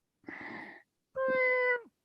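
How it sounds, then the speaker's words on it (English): A real house cat meows twice close by, a short rough call followed by a longer, clear drawn-out one, with a brief silence between them in an otherwise quiet room. "No, it's a real cat."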